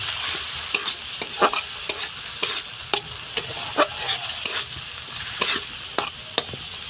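Spice paste with Kashmiri chili powder, tomato pieces and slit green chilies being stir-fried in a pan for okra curry, a steady sizzle broken by repeated sharp scrapes of the spatula at an uneven rhythm, close and fairly loud, with no voices.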